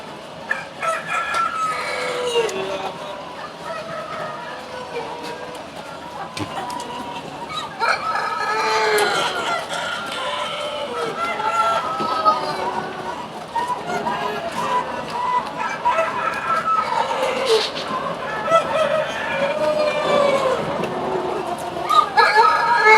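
A flock of laying hens clucking and squawking continuously at an egg farm with a belt egg collector, with an occasional rooster crow and a voice talking over them.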